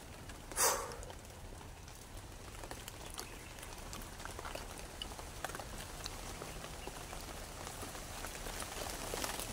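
Steady rain patters on surfaces outdoors, a soft continuous hiss with scattered drops and a brief louder knock near the start.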